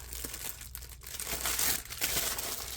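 Crinkly plastic packaging is crumpled and torn open up close, a busy stretch of rustling, crackling and ripping with no pauses and no voices.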